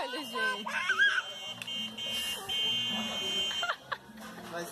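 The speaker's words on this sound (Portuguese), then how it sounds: "Ela vai apertar essa buzina o dia inteiro." A toy horn buzzer sounds in short pressed bursts, repeated several times, with people talking and a voice around it.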